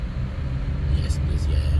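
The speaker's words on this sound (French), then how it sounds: "Et on accélère." A car's engine revs low and steady, accelerating during a manual-transmission driving lesson, with a rumbling drone under faint cabin noise throughout.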